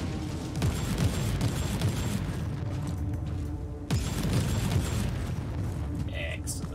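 Heavy bolter fire in the Warhammer 40k: Inquisitor - Martyr video game, loud dense booming bursts rolling continuously over a full game mix, with a sharp fresh volley near the middle.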